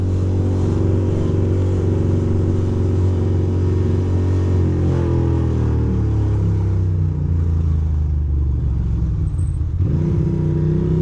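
A Ducati motorcycle engine accelerating, loud and close, a steady deep rumble whose pitch climbs and holds through the run, then dips briefly near the end before rising again.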